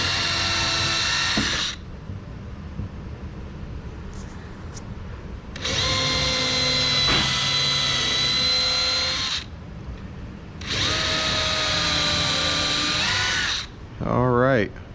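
A power drill bores hinge holes into a wooden nightstand door in three loud, steady whirring bursts separated by short pauses, with faint background sounds in between.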